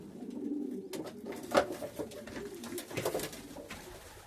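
Homing pigeons coo softly in a loft during breeding season, low murmuring calls rising and falling with a few flutters and clicks nearby.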